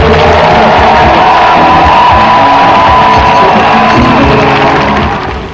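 Congregation at an evangelistic campaign gathering in Abobo Akeïkoi loudly cheering, whooping and shouting in praise, a dense continuous roar of many voices with scattered yells and claps, fading slightly at the very end.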